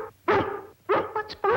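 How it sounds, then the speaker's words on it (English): A dog barks and yips up close in three or four quick, loud bursts with short gaps between them. "why is that dog carrying on so?"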